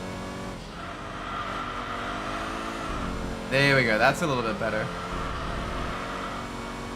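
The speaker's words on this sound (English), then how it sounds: "Once you get the engine upgrades with the turbo cars, you just get the turbo blow off." Turbocharged car engine with aftermarket engine upgrades in the Enthusia Professional Racing game, a steady drone that briefly surges into a sharp hissing blow-off burst, with someone talking over it.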